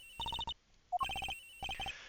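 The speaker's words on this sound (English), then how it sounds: "Agent Hicks's phone. It's ringing from somewhere, sir." A cell phone ringtone in the Miles Edgeworth: Investigations video game: quick bursts of bright electronic chirping tones in three clear groups, with a short two-note blip between the first and second bursts.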